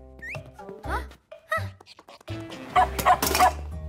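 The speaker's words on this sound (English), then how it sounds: "And you stop barking, Pippi." Cartoon dog barking in a castle, a series of short yaps and barks close by, mixed with character voices talking over and between them.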